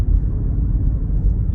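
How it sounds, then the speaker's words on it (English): Inside a BMW XM, the engine note plays through the car's cabin speakers as a steady, loud, low rumble with no talking. "a lot of the sounds you're hearing in the car are pumped through the speakers."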